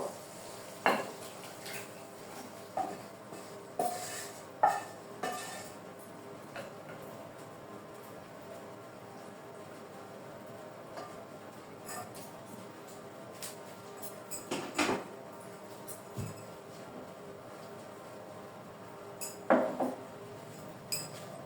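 Mutton kosha poured from a cooking pot into a clay pot: sparse ladle scrapes and clinks against cookware, spaced irregular knocks over a quiet room, close but soft.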